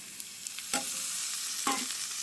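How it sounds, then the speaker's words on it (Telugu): Tomato stirred into cooked green peas in a pan gives a faint, low sizzle broken by two distinct scraping strokes of a spoon, quiet and close with no speech. "టమాటా వేసేసి బాగా కలపండి"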